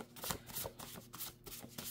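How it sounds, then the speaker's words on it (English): Tarot cards being shuffled by hand, a run of quick papery riffles and soft slaps in uneven bursts, close and fairly quiet with no talking. "Let me shuffle properly and line it up so it's nice and breezy."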